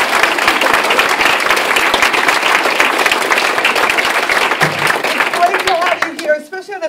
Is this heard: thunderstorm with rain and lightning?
no